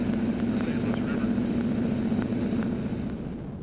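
A de Havilland Beaver floatplane flies over the St. Louis River, its propeller engine a steady loud droning hum that holds throughout and begins to fade slightly at the end.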